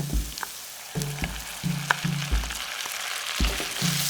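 Rice sizzles and is stirred in a hot pan for claypot rice with mixed grains, loud crackling frying broken by repeated scraping strokes of a spatula in a regular rhythm.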